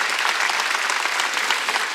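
Church congregation applauding during a Wednesday worship service: thick, sustained clapping from many people, even and loud for the full two seconds with no speech.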